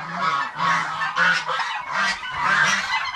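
A goose honks repeatedly in a rhythmic series of loud, close calls, with no talking, in a rural setting where a python had attacked the bird.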